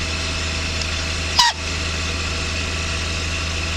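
A Mercedes 600 engine idling on a cold start, a steady low hum and drone throughout, broken by a brief sharp mechanical chirp midway.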